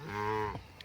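A young Angus-cross bull calf lets out a single short, close moo on a pasture, a steady tonal bellow that fades after about half a second.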